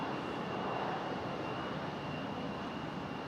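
A JetBlue jet airliner inbound from Orlando gives a soft, continuous engine roar at a distance near Raleigh-Durham airport, heard alone with no voices.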